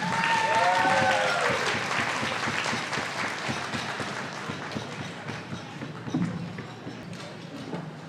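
An audience at a celebration gala applauds to welcome Mr. Tang onstage: dense, sustained clapping that starts loud, with a few whistles early on, and slowly thins out and softens.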